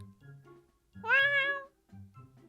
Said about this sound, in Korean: 네코야마 씨? 이 고양이 말이야.